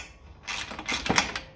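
A socket wrench is used to undo long bolts from the exhaust heat shield of a 1954 Ferguson 20 TEF diesel tractor. A few quick ratcheting clicks and creaks come close up, in a short burst.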